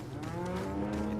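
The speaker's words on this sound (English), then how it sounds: "It's a cow." A cow moos once in Resident Evil 4, a drawn-out, fairly loud low bellow that carries alone without any talk.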